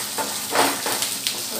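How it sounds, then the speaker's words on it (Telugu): Green and dry red chillies fry in a pan for chutney, making a close, steady sizzle broken by a few soft stirring scrapes over a short stretch. "ఇలా కొంచెం ఫ్రై చేసుకోవాలి"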